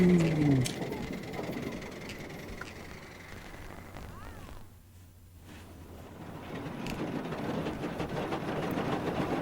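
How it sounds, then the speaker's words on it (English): A small steam train runs through hill country, a low steady rumble with faint rail clatter holding throughout at moderate distance, dipping briefly midway before returning. "Oh look, little train."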